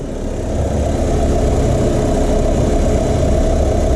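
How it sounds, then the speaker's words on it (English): A BMW engine with direct injection idles steadily, a loud close low rumble with faint rapid injector ticking riding on top, settling into an even drone after a brief swell at the start. "You can hear the direct injection, you know, injectors kicking on pretty good. That's your ticking, man."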